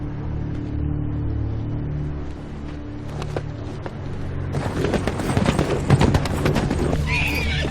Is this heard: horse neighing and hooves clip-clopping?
yes